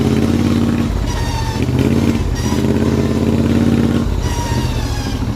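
A racing lawn mower engine runs loud and close as it drives slowly around corners, a rough throbbing note that swells and eases with the throttle, alone without talk.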